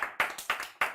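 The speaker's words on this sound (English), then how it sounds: "A round of applause." Brief clapping from a small audience at a live Black Diamond HQ show during the Innsbruck bouldering World Cup 2024. About four sharp, evenly spaced claps sound close and clear.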